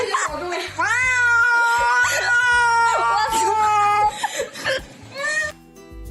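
A cat gives long, loud, drawn-out meows close up, several wavering yowls in a row like caterwauling. A person speaks briefly in the background.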